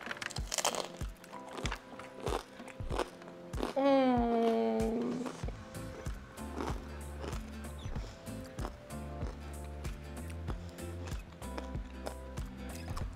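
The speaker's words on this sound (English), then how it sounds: "So let me dip it, and they're still cracking." Close, rapid crackling and popping of freshly fried pork rinds, irregular and continuous, with a voice speaking briefly partway through.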